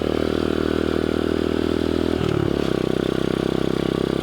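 A restored Dax 125cc motorbike engine runs steadily nearby with a loud, even drone. Partway through, the pitch dips briefly as the revs shift, then the engine settles back into its running note.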